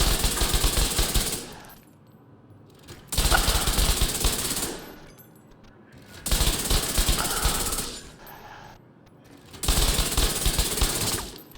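Video game automatic weapon firing in four long sustained bursts, each a few seconds of rapid loud gunfire separated by short pauses, with faint quiet sound in the gaps.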